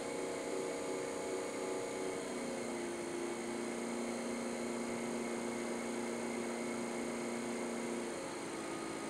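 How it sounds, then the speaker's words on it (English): Electric potter's wheel humming steadily as it spins up to a faster speed while a clay bottle neck is collared, a continuous motor drone with a tone that shifts upward partway through. "Whenever I collar, I have to speed up the wheel."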